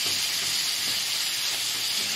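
Garlic fries in a pan alongside a tomahawk steak, producing a steady, loud, close sizzle and hiss that runs unbroken throughout, with no talking.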